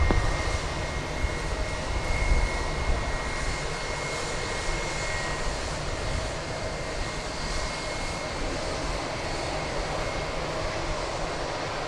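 An airliner takes off from runway 36 right at DFW airport, its engine rumble steady and fairly distant throughout, with no speech over it.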